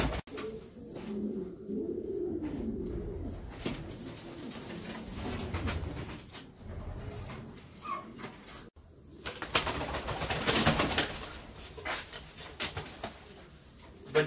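Fancy pigeons cooing nearby in soft, repeated rounded calls, with occasional rustles and a louder burst of wing or handling noise partway through.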